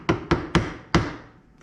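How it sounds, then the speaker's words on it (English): A block of wood hammered onto a motorcycle rear shock part on an XR600 project, four sharp close knocks in quick uneven succession, each with a short ringing decay. "I grabbed a little block of wood and I'm just gonna hammer this in"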